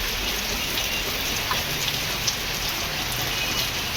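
Heavy rain pours steadily in Guwahati, a dense even hiss with occasional sharper drops, close and continuous throughout with no talking.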